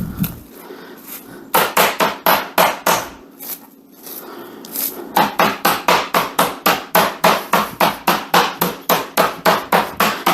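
A meat mallet pounds chicken breast flat for chicken parmigiana in a run of rapid, even thuds, close and loud, with a short pause before the blows speed up again.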